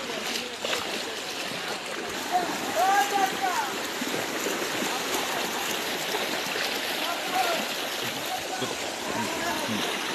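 Floodwater rushes over a road at Nalitabari, Sherpur, a steady broad wash with splashing that continues the whole time, close and moderately loud, while a voice speaks over it.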